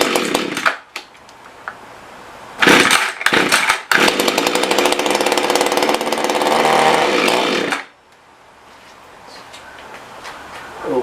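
A Mantis rototiller's two-stroke engine sputters, then roars loudly at high revs for several seconds before abruptly cutting out and stalling, leaving quiet background sound.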